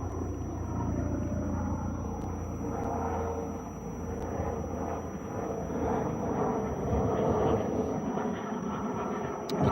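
Helicopter flying overhead, a steady broad engine and rotor rumble that stays loud and continuous outdoors, with no voices over it.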